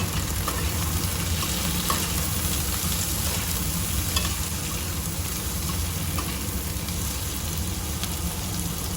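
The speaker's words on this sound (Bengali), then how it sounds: "দেবো আলমন্ড কাজু আর বাদাম এটা ভালো করে আমি ভেজে নেব" Almonds, cashews and other nuts frying in a pan, a continuous loud sizzle with stirring scrapes throughout and no talking.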